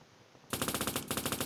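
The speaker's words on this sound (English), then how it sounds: "As you can see, it plays the shooting sound." Gunfire from a third-person military shooter built in Unity, heard as two loud bursts of rapid automatic shots with no talking, following a brief quiet moment at the start.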